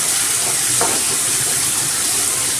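Half a small tomato sautéing in a pan for a manathakkali keerai thuvaiyal gives off a steady, even sizzling hiss with no talk.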